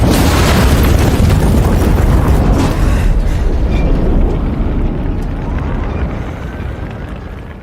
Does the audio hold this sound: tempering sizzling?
no